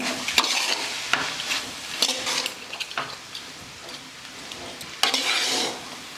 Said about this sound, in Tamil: சாப்பாடு போட்டு கொஞ்சம் கொஞ்சமாக பரட்டிக்கலாங்க